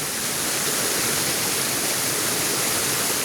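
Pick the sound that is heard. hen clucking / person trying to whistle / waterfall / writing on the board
waterfall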